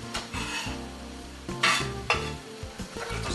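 Chopped spring onion is stirred through a hot pan of Moroccan couscous with pears and chicken, giving a few sharp scraping strokes over a soft sizzle, close and fairly quiet.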